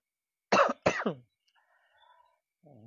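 Two sharp, distinct coughs in quick succession, close and clear, followed by faint quiet noises and a brief low murmur.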